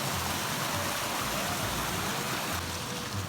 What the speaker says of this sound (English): A couple of really cute little waterfalls along the way.